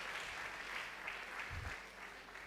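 Audience applause for an emeritus professor at a university gathering: steady, dense clapping that sustains for the whole stretch at moderate distance, with a brief low thump partway through.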